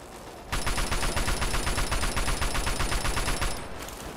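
Gunfire in the video game Fallout 3, a rapid, continuous burst of shots lasting about three seconds, loud and dense, ending abruptly into quieter background noise.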